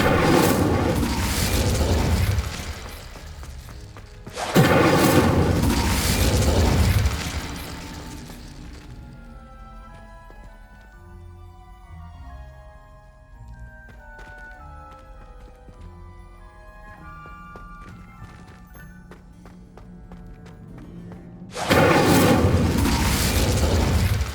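Incendio fire spell blasts from Hogwarts Legacy: three loud, roaring bursts, two back to back at the start and one at the end, separated by a long quieter stretch of soft tinkling game sounds.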